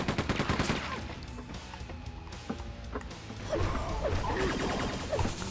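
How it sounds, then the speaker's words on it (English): Machine gun fire in Quake II, rapid rattling bursts over busy game action, loudest at the start and again near the end, with crashing impacts in between. "Let me get my machine gun out."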